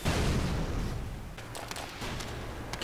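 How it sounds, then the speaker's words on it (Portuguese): Bomb exploding in the blocky shooter Ace of Spades: a deep boom at the start decays into a low rolling rumble, with a few scattered crackles and pops following. "Acho que é uma bomba."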